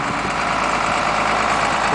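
A tractor's engine idles with a steady, loud, unbroken rumble and chug close by, used to drag a chicken house across the ground on a chain.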